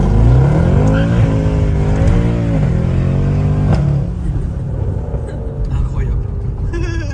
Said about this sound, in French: il a juste ouvert un peu l'échappement pour que ça soit plus joli à entendre